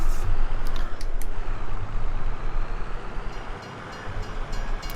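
A train passes in the farming video game Farming Simulator 22, a loud steady rumble of rolling railcars close by with a brief dip near the end and faint clicks of rail joints.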